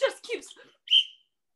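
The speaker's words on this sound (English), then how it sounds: "you don't have to blow the whistle so many times" A whistle gives a short, shrill blast after a quick series of chirpy whistle-like bursts, all close and with no speech.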